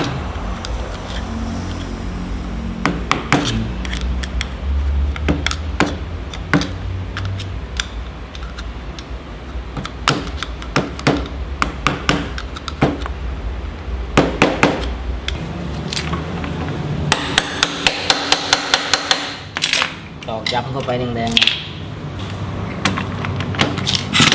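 A flat screwdriver taps and pries at a clutch clip on a Honda Wave 110i, producing repeated sharp metallic clicks and knocks over a steady workshop hum, denser near the end.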